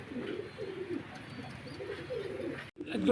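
Red Saker pigeons coo in low, repeated rolling bursts, steady and close, before a brief break and a louder rustle at the end.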